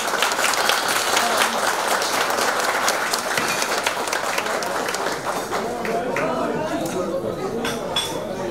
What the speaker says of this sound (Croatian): Može jedan aplauz.